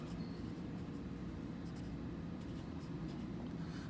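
A pencil scratching across paper while a rough sketch is drawn, a continuous faint low scraping texture with a few brief light taps, close and quiet.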